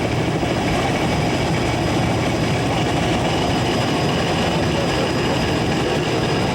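A 1983 APBA inboard racing powerboat with a Chrysler engine runs with a strange-sounding, steady, dense roar that holds constant throughout, loud and continuous with no talk.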